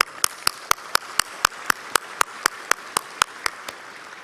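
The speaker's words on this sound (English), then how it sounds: "Let us please all give the dignitaries a warm round of applause." Steady single clapping at a commencement ceremony, evenly spaced sharp claps about four per second, fairly close and distinct rather than a dense crowd roar, honoring dignitaries.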